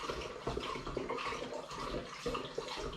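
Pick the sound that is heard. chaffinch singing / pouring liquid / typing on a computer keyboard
pouring liquid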